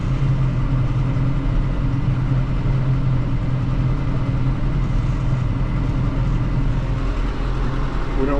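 A tractor pulls a Land Pride scraper blade along at slow speed, giving a steady, loud low engine drone with even mechanical rumble and no gaps throughout.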